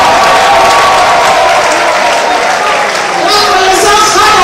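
Loud, sustained clapping from a large crowd at a university medical faculty graduation ceremony, a dense wall of applause close and full throughout, with voices and faint cheering mixed in.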